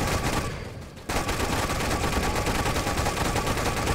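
Rapid continuous gunfire from a gun in the video game Toy Soldiers, a dense loud burst of shots that briefly drops out and then resumes as sustained fire.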